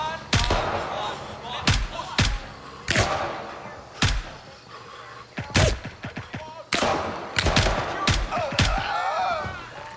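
Suppressed gunfire in Gray Zone Warfare, a series of sharp muffled shots scattered irregularly through a busy game soundscape, some in quick pairs, with voices talking alongside.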